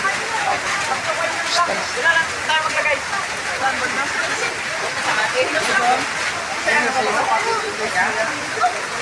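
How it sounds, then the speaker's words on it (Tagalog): Heavy rain pours down steadily beside strong floodwater, a dense, even wash of drops that continues for the whole stretch while people talk over it. "stranded kami dito ngayon dahil sobrang lakas ng ulan"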